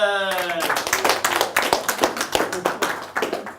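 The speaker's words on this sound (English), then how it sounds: "Give a huge raising the roof off, warm round of applause for Helen." A crowd applauds a speaker at a business bootcamp event, fast dense clapping that starts right after a brief tone and continues steadily to the end.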